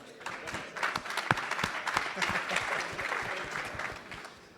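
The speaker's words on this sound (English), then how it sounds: "If we can just quickly give a big round of applause for our panelists here today." An audience at a panel on early stage fund managers gives a short round of applause for the panelists, a dense patter of clapping that stays fairly even and fades slightly at the end.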